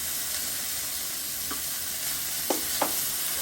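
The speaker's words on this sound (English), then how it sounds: "First, heat up a pan and add a little bit of oil. Then add in chopped shiitake mushrooms and the whites of a scallion." Chopped bamboo shoots, shiitake mushrooms and scallion whites fry in a lightly oiled pan, giving a steady soft sizzle throughout with a few brief stirring clicks near the end.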